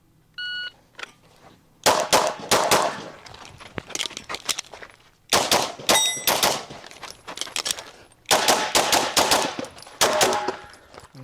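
Bursts of rapid handgun fire on a timed practical shooting stage, a start beep followed by three fast strings of shots with reload pauses between, loud and close with ringing steel hits.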